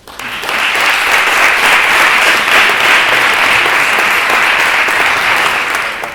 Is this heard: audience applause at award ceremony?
yes